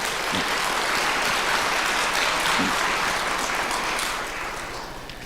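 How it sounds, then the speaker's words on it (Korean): A church congregation at a Sunday service claps in welcome, a steady wash of many hands lasting throughout and easing slightly at the end. "여러분들 환영의 박수 부탁드립니다"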